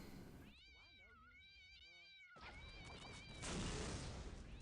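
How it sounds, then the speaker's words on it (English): Cats meow and yowl repeatedly in the Postal 2 video game, several close, wavering cries in quick succession over rushing background noise, followed by a louder burst of hissing game noise. "It's literally raining cats."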